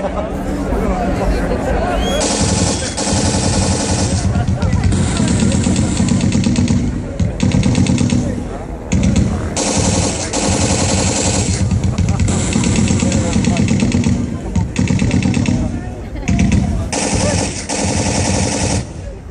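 WWI aircraft dogfight display with a Fokker and Sopwith triplane, SE-5s and a BE-2, loud sustained engine drone and staccato rattling bursts of simulated machine-gun fire, with crowd chatter in the background.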